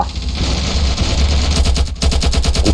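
Loud rapid bursts of automatic gunfire in a Ravenfield battle, dense repeated shots stacking close together with a brief gap before another fast volley.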